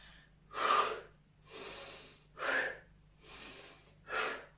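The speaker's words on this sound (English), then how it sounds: "Breathe in and out. Hear your breathing." Steady, rhythmic breathing during a seated exercise workout for older adults: five loud, close breaths alternating in and out at an even pace, with no talk.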